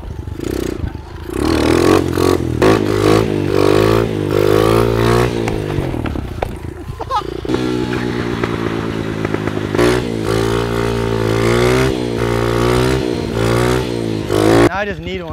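Dirt bike engine revving hard indoors in a frat house while spinning donuts, loud continuous revs with scraping and clatter, crowd voices and shouting over it throughout.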